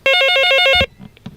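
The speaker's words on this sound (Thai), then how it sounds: "เพราะว่าเสียงโทรศัพท์ตั้งเพลง" A phone rings with a tune set as its ringtone at a Chiang Mai temple livestream: a loud, near melodic loop repeats several times, then stops suddenly, followed by a few soft knocks and rustles.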